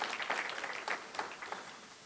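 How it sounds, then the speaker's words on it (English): Applause from a community meeting audience for a senator's representative, a soft scattered patter of claps in a hall, fairly faint and brief with no voices over it. "Give Ryan a round of applause."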